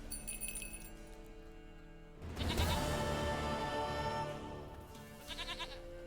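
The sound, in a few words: goats bleating in a video game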